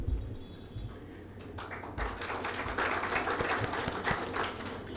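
Audience clapping at a live talk or seminar, a dense patter of many hands that starts thin and swells into steady, fairly quiet applause from across the room.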